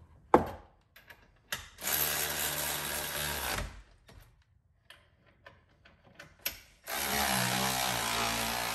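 A ratchet snugging down brake caliper bolts over the rotor, close up: scattered sharp clicks and taps, then two sustained rapid buzzing runs of a couple of seconds each, with no talk.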